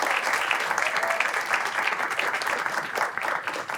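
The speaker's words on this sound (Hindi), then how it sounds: "तालियां नहीं रुकनी चाहिए जब तक आर्टिस्ट स्टेज सुनते" Audience at a live music show breaks into steady, dense clapping that keeps going at an even level throughout, with no talking over it.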